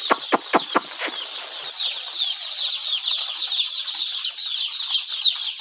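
Newly arrived broiler chicks at a poultry farm keep up a dense, high-pitched chorus of cheeping. A few sharp thumps or flaps sound near the start, and then the peeping continues steadily to the end.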